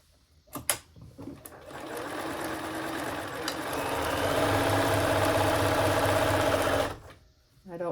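A sewing machine stitches seams on a marionette robe, running in one steady burst of about six seconds with a rapid, even needle rhythm that quickens toward the end, then stops; a few brief handling clicks come before it.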